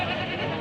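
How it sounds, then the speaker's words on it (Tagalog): Goats bleat repeatedly in a crowded livestock goat market, their cries dense and close over a continuous background of animal and crowd noise. "Dumagsa na pakarami kambing."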